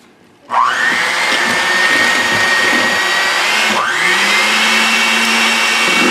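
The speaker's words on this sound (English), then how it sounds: "Now we're going to use our hand mixer and beat this until it's light and fluffy." An electric hand mixer whirs loudly into gingerbread cheesecake batter, starting abruptly, then running as a steady high motor whine that briefly shifts pitch midway, close and alone.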